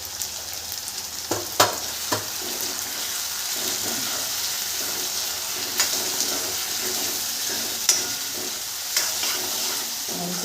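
Poha cooks in a pan with red chilli powder and coriander-cumin powder, giving a soft steady sizzle while a spoon stirs and scrapes, with a few sharp clinks against the pan and no talking.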